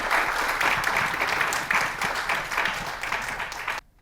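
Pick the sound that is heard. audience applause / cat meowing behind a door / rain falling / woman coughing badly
audience applause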